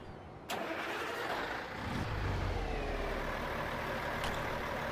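An old fuel tanker truck's diesel engine in American Truck Simulator cranks and catches, then settles into a steady, loud idle heard from outside the cab.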